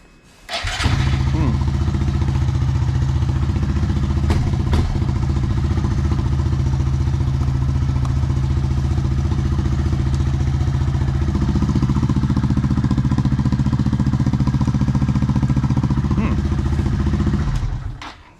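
A Honda Monkey 125 motorcycle fitted with a lithium-ion battery cranks and catches quickly, then settles into a loud, steady close-up idle with a rhythmic thumping beat that continues for many seconds before cutting off.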